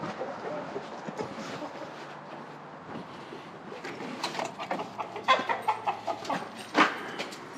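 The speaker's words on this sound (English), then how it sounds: "we've got a couple barn chickens" Barn chickens clucking and bawking amid a busy barn in winter, with scattered sharp squawks over a steady background hum.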